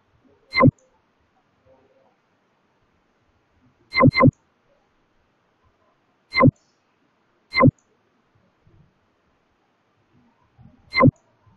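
Five sharp computer mouse clicks, some doubled, spaced irregularly over quiet background while submitting a hospital claim form on a computer.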